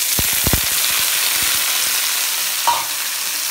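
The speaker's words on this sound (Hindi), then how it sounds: "देखें प्याज हमारा फ्राई हो रहा है, जलाना नहीं इसको, हल्का सा फ्राई करना" Onions frying gently in a pan, a loud continuous hiss and sizzle with several low pops and crackles early on, then a single clink, with no one talking.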